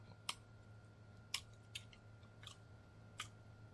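Hickory smoked rib is chewed close to the mic, heard as a few sparse, soft crunches and clicks over a low steady hum, with no talking.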